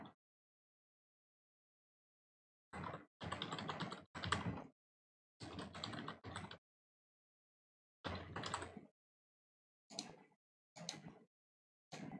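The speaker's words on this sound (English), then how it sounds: "Then try to type anything." Bursts of rapid key clicks on a computer keyboard come in short clusters separated by silent pauses, close and fairly quiet, with no one speaking.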